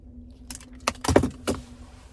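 A 2025 Chevy Silverado 1500 RST key fob with remote start is handled up close, brief clinking jangles and plastic clicks in a few quick bursts over a steady low hum.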